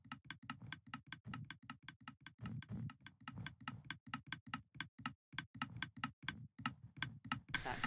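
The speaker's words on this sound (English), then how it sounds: "That clicking sound you hear is the automatic snowball dispensing" An automatic snowball dispenser in a video game clicks in a rapid, regular series of sharp, crisp taps, repeating steadily with brief irregular gaps, close and fairly clear with no talking over it.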